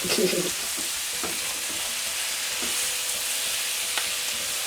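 Onions with peppers frying in a pan for quinoa, a continuous hissing sizzle with a few scooping, scraping spoon strokes near the start and scattered through, close and steady.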